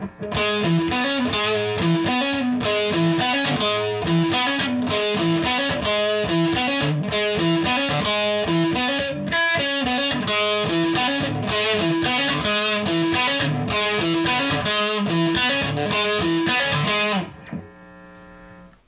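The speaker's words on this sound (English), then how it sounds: "You might not be able to hear me over the fuzz" Loud, heavily distorted electric guitar with a thick fuzz tone plays a steady rhythmic riff from a song, then cuts off abruptly and rings out.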